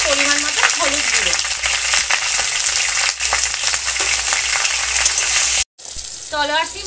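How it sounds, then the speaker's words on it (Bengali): Sword beans fry with salt in an oiled pan, giving a loud, close, unbroken sizzle with occasional stirring scrapes and a momentary dropout. "লবণ দিয়ে এবার সিমটা ভাজতে হবে"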